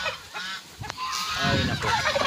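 Goose honks, a few harsh calls repeated close by over a steady outdoor background.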